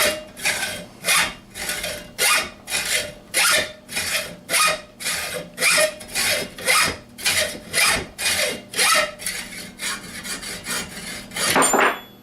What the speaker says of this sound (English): I've had this old beat up rusty hacksaw for 40 years.